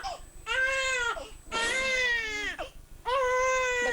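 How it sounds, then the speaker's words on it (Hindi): A newborn baby girl cries in three long, loud, wailing bursts with short pauses between, close by, over a faint steady hum. "बच्चा रो रहा, बच्चे को संभालिए।"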